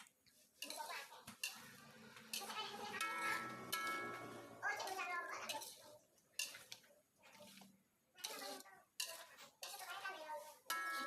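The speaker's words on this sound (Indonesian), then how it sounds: "kita aduk ya sampai rambanya mulai melembut ya" A utensil stirs krecek pork skin crackers in a large pot, producing repeated metallic scrapes and clanks of cutlery against the pot, with a person talking over the stirring throughout.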